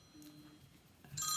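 A telephone rings indoors during a home lockdown chat show, a short bright electronic trill rising at the end after quieter room sounds.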